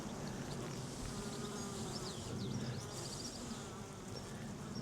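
Honeybees buzz in a steady, dense drone around an open hive during an inspection, a continuous close swarm hum with no pauses or talk.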